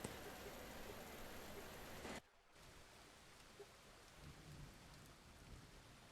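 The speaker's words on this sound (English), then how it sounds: "Oh, it's raining here." Steady rain hisses in the Farm Expert 2017 farming video game, a dense, even wash that drops sharply to a quieter patter partway through and continues softly to the end.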